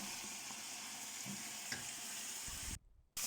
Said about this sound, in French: Vous ajoutez également de la tomate fraîche et qu'on va bien remuer et laisser cuire en profondeur